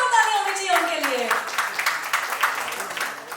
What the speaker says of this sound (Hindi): जोरदार तालियां होनी चाहिए उनके लिए।